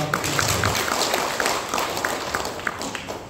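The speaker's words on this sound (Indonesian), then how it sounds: "Boleh tepuk tangan untuk network marketing." Audience applause at a network marketing gathering, a dense steady patter of many hands clapping together, fairly close and continuous without voices over it.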